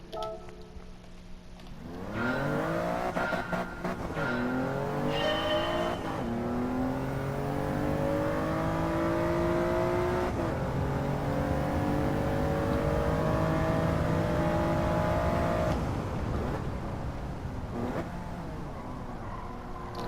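Engine of a Toyota GR Yaris in Gran Turismo 7 revs and climbs through the gears while driving, loud and continuous, with rising pitch sweeps, shift dips and lifts off the throttle for braking, no talk.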